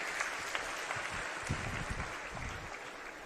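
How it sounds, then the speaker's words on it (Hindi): A crowd claps steadily at a Punjab political rally with Chief Minister Bhagwant Mann in Barwala, producing dense, sustained applause with scattered louder claps throughout. "एक बार ताली बजा के हमारी टीम का हौसला बढ़ा दें।"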